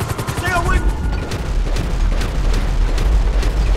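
Gunfire in Grand Theft Auto 5 during a heavy shootout, with rapid bursts and booming shots cracking continuously under a voice talking throughout.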